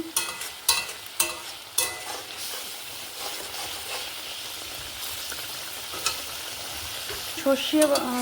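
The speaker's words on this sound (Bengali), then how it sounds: "নেড়ে একটু হালকা কষা কষা মতো করে নিতে হবে" Egg curry masala with mustard paste being stir-fried in a pan, a steady sizzle with repeated spatula scrapes and knocks, louder early and spaced through the middle, with no talking.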